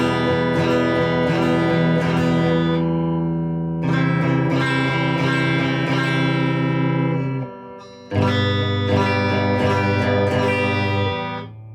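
Electric guitar tones from a Squier Telecaster with a Tonerider hot P90 neck pickup ring out as loud, sustained strummed chords with brief pauses between phrases, with no talking.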